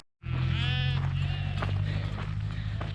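A sheep bleats loudly and close up in one long, wavering call that carries on without a break over steady farm background noise.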